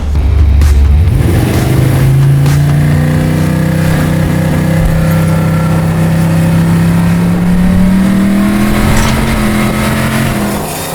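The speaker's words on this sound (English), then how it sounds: "A car like that, it's got to sound good because people are going to hear it driving down the road" A V8 engine in a 1957 Chevy street car roars close by, revving up sharply then holding a loud, deep, steady drone that climbs slightly near the end.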